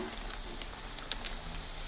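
Spices frying in oil in a pan on a gas stove with the flame turned up, giving a faint, steady crackling sizzle with small scattered pops.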